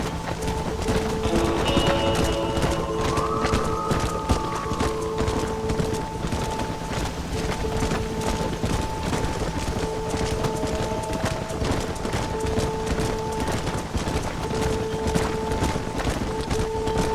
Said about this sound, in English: They're spooked! We have to stop the stampeding!